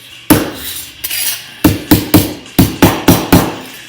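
Metal letters for license plate signs are hammered flat with sharp, close blows, first a few scattered strikes and then a quick run of evenly spaced hits.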